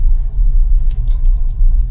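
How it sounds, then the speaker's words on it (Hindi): A car pulls into an auto service center in Delhi, its engine giving a loud, steady low rumble close by, with no talking. "अभी भी एक गाड़ी आ रही है"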